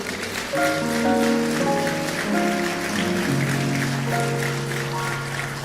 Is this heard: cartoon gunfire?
no